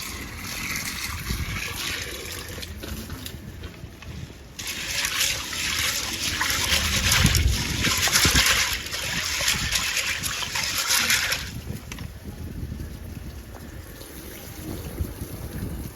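Rice is washed in water, with sloshing, swirling and splashing that grows louder midway and then settles into softer trickling.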